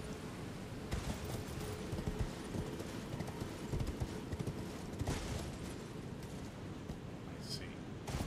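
Horse hooves clip-clop across the ground in Elden Ring, a fairly quiet irregular trot of thuds that keeps going throughout, with low game ambience and some scattered louder impacts behind.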